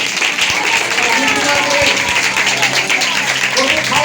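Loud, dense applause from a church congregation, steady clapping throughout, with voices mixed in underneath.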